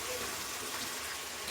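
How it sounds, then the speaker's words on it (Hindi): Water poured into a cooking pot while making a chicken liver and gizzard potato dish, a soft continuous gushing splash held steady throughout. "इसमें आपने 2 कप जो है ना पानी ऐड करना है"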